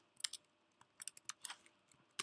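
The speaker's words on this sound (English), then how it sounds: "I seem to type this wrong a lot." Keys on a computer keyboard are tapped in short uneven bursts while coding, each keystroke a crisp, fairly quiet click close to the mic, with brief pauses between clusters.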